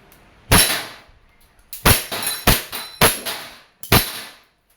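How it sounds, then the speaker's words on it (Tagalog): A WE Glock 34 Gen 4 gas airsoft pistol fired in a shoot test, five or six sharp, loud, close cracks with short metallic rings, one shot followed by a quick string of four more. "This is your Glock 34 4 series. Yan, by WE. Shoot test. Firing."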